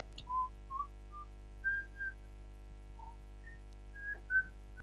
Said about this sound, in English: This is the whistling.